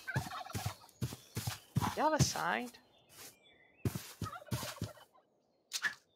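Turkeys in the modded Minecraft game RLCraft give several warbling gobbles in short bursts, mixed with a voice talking over and between them.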